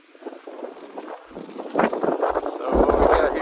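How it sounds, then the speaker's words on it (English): Strong gusting wind at Ruggles Mine as Hurricane Lee departs, roaring and buffeting the microphone in rising rumbling blasts, loud and close. "So this is what you can probably hear the wind."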